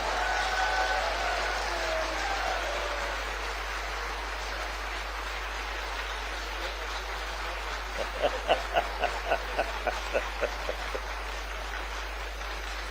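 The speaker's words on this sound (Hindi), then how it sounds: "इसलिए ताली तो बजती है" An audience at a political Ayurved Diwas event in Madhya Pradesh applauding, a soft wash of clapping that turns into a short run of evenly spaced, rhythmic claps toward the end.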